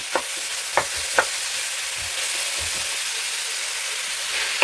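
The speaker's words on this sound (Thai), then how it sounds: "ปกติก็จะทอดก่อนนะคะสำหรับ พริกหวานกับหอมใหญ่ แต่วันนี้ ใส่ผัดเอาเลยค่ะ" Bell peppers and onion stir-fry in a pan for a home-cooked chicken dish, a loud steady hiss broken by three quick spatula clacks near the start, with no voices.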